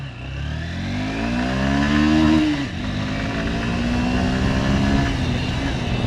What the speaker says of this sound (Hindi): अब यहाँ से थोड़ा सा पिकअप टेस्ट करते हैं।